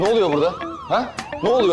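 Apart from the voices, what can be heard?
alarm ringing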